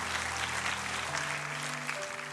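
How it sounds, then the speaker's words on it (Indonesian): A congregation at a church service gives a lively round of applause. Steady, dense clapping runs throughout, mixed with sustained keyboard or organ tones underneath. "wah kasih tepuk tangan yang meriah buat Tuhan saudara."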